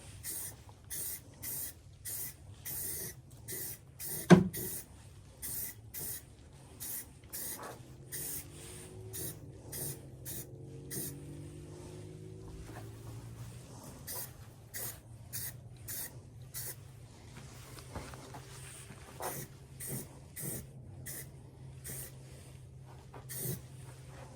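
An aerosol can sprays black paint onto a Mazda B3000 truck door in short, regular hissing bursts, close and fairly quiet, repeating steadily with brief pauses between passes.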